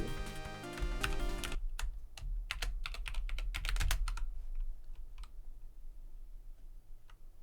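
Rapid clicking keystrokes on a computer keyboard, bursts of typing in uneven rhythm, close and clear, following a short stretch of louder background music at the start.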